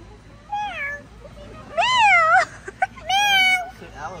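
A cat meows three times, close and clear, with rising and falling drawn-out cries and short gaps between them.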